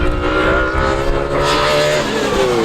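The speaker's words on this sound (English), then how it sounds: "Possibly Phil Keane in the screaming Aston Martin V12 Vantage." An Aston Martin V12 Vantage GT3 race car screams past at Goodwood Motor Circuit with a loud, sustained high-revving V12 wail, its pitch shifting as it goes by.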